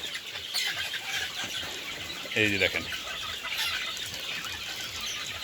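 Chickens at a farm eating fermented maize feed, with soft clucks and a brief burst of louder calling and wing flapping midway over steady low background noise, while someone speaks briefly.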